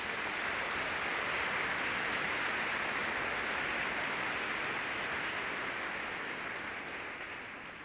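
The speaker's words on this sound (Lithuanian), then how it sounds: "Gerbiamos publikos paprašytume plojimais padėkoti organizatoriams bei rėmėjams." A concert audience at a classical music event applauds the organizers and sponsors, producing dense, sustained clapping throughout that tapers off slightly at the end.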